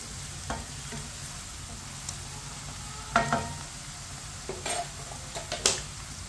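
Okra frying in hot oil on a high flame, a steady soft sizzle with intermittent spoon scrapes and clinks against the pan as it is stirred.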